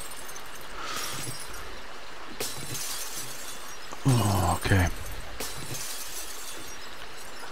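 Glass shattering in the 7 Days to Die video game, a loud crash with tinkling fragments in two quick bursts near the middle, over a steady game-ambience bed with brief talk.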